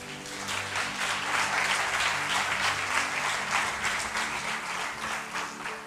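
A church congregation breaks into loud, dense applause that carries on steadily for several seconds with no talk over it.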